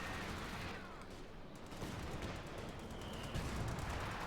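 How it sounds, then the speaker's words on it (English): Grenade blasts amid ongoing combat in the Company of Heroes 2 game, a steady rumbling barrage of explosions and small-arms fire at moderate distance, sustained throughout with slight swells near the end. "Grenades being unleashed there."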